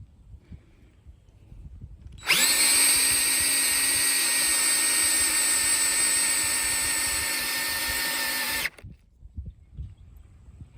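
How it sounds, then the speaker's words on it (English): A power drill with an auger bit bores a hole while a farm gate is being hung, starting abruptly and whirring loud and steady for about six seconds before cutting off, with quiet background before and after. "The good thing about the auger bits is that once you're on the right path, you just have to let it do its thing."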